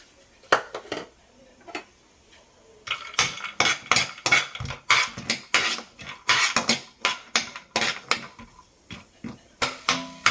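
A metal spoon clinks and scrapes repeatedly against a pan as cashews fry in ghee, a quiet start giving way to steady, rhythmic stirring knocks.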